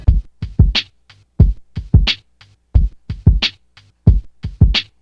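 A punchy sampled drum loop plays back alone from an MPC sampler: kick and snare hits with crisp hi-hat accents repeating in a steady groove, slightly buzzy.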